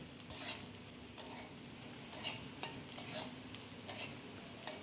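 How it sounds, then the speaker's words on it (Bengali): Small mola fish fry in a pan with salt and turmeric, a soft continuous sizzle broken by repeated scraping stirs and light utensil clinks at an uneven rhythm, fairly quiet and with no talking. "নুন হলুদ দিয়ে আবারও ভালোভাবে নেড়ে চেড়ে নিয়ে দেখো"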